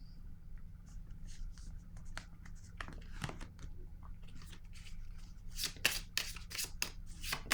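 Tarot cards shuffled and drawn by hand, a soft, close flurry of papery riffles and slides that grows busier and louder near the end.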